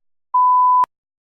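A single clean electronic beep at a steady mid pitch lasts about half a second and stops with a soft click, then silence; it marks the start of TOEFL speaking test preparation time.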